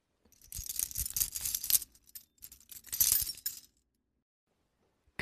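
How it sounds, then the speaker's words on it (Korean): A large bunch of keys jangling as a caretaker makes night rounds, heard as two bursts of bright metallic clinking, the first about 1.5 seconds long and the second shorter, separated by a brief pause, fairly close and alone with no talk. "관리인이 큰 열쇠 꾸러미를 갖고 다녀서"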